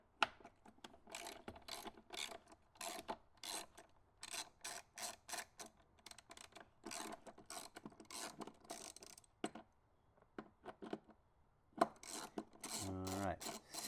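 A ratchet with an extension clicks in repeated short bursts while turning a bolt on a Jeep Pentastar 3.6 liter engine, with pauses and metallic tool handling between strokes, close and fairly faint.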